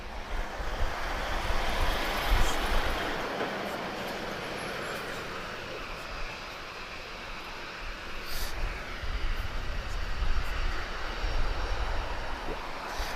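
Emirates Boeing 777 airliner at Lisbon Airport, a loud, steady broadband engine roar with rushing wind noise that swells and holds across the whole stretch, heard alone without talk.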